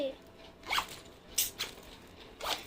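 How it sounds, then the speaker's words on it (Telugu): Zippers on summer gift bags are pulled shut quickly, giving three or four short, sharp rasping zips close to the mic with quiet gaps between them. "రప్ప రప్ప వేసేస్తున్నావు జిప్లు"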